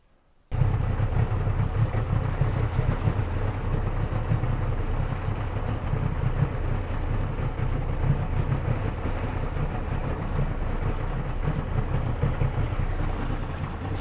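A Yamaha 60 outboard motor with carburettors idles steadily at low revs after adjustment, a close, continuous low burbling rumble that starts abruptly and runs evenly for over thirteen seconds.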